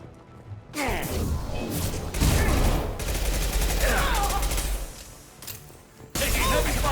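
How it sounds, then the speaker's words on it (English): Gunfire in the Mass Effect 2 game, a heavy battle of rapid shots, cracks and impacts in dense bursts with brief pauses, loud and close, with some voices mixed in. "Taking heavy fire"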